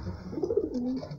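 A pigeon coos softly in a pigeon loft, one short low rolling coo with faint ambient noise around it.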